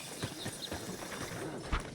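A horse's hooves clip-clop in Red Dead Redemption, a quick irregular patter of soft thuds at close range with faint background ambience.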